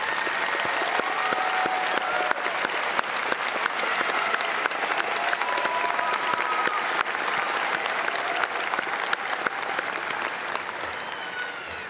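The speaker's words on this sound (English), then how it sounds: "I ask you to express your appreciation for all they do by joining me in a hearty round of applause" Sustained applause from a large audience at a community college commencement ceremony, steady dense clapping held for about twelve seconds with no speech over it.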